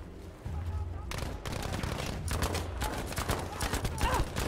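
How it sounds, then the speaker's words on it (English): Gunfire in Battlefield 5, with a dense run of sharp rapid shots and bursts over steady background game noise and a few heavier thuds. "I think I just shot his helmet off"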